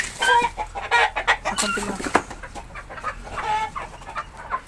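Backyard chickens cluck in a flock kept alongside turkeys and ducks, with repeated short clucks and calls at close range and a brief spoken phrase among them.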